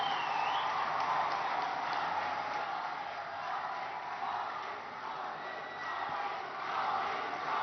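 A large audience claps in a dense, continuous wash of applause welcoming the Prime Minister at a coal projects launch event in Odisha, heard steadily and somewhat distant, with no clear speech on top.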